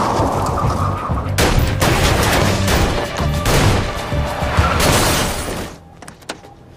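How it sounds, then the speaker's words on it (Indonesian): Rapid volleys of gunfire crack through a film shootout between gangsters and drug addicts, loud and dense for most of the stretch before thinning to a few scattered shots near the end. "James pun tidak segan untuk menodongkan pistolnya dan baku tembak pun terjadi."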